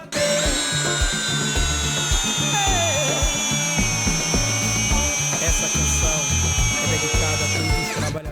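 A Grosser cordless drill-driver drives a 200 mm self-tapping screw, making a loud, strained, continuous whine with a rapid low chattering underneath that lasts the whole eight seconds.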